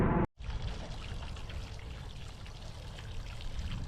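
Water trickles and drips steadily inside a storm-flooded cemetery mausoleum, a soft continuous pouring sound after a brief cut at the start, quiet and close with no voices.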